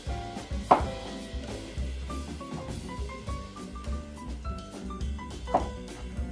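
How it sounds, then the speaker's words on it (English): A knife cuts strawberries into quarters on a board, two crisp cuts a few seconds apart over quiet background music. "we're going to set it up like this, and we're going to cut it into 4"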